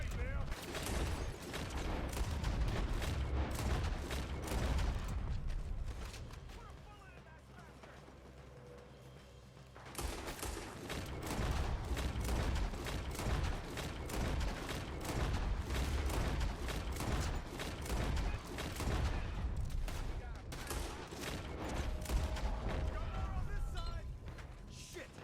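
Dense gunfire in Red Dead Redemption, rapid volleys of sharp shots that pause briefly partway through and then resume at full intensity, with a voice speaking over parts of the exchange.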